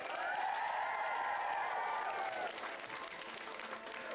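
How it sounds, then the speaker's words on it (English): Applause from a television game-show studio audience in 1994, a steady wash of clapping under a sustained musical tone that ends halfway through, after which the clapping carries on alone at a slightly lower level. "Let's have a round of applause for Claire."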